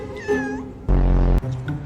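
A cat gives two short meows, a rising whiny call followed by a louder, lower one, close to the microphone in a quiet room.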